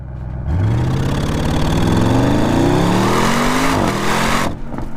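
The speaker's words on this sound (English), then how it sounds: "The RS Sport exhaust, which is still way too quiet, is also standard" An Audi RS 6 GT wagon revs up from idle, its standard RS Sport exhaust note rising in pitch over a few seconds, then drops back and cuts off abruptly.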